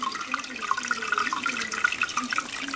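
Water poured over brewing grains held in a strainer above wort, rinsing them in a steady, close splashing stream that runs unbroken for the whole stretch.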